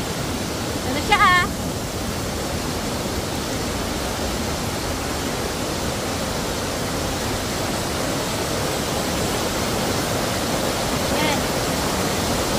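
Anthurium Falls in Famy, Laguna roars as a steady, full rush of falling water that fills the whole scene evenly. A brief voice cuts in near the start and another faint one near the end.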